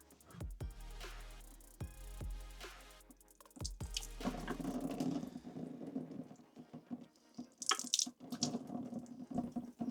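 Water from a small sink tap drips and splashes faintly, starting with a few separate drips before turning into a soft, uneven running trickle, with no talking.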